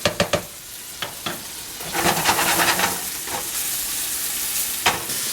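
Noodles stirred in a pan with chicken chardonnay cooking, a few sharp scraping clacks of a utensil against the pan over a constant close sizzle, with no talk.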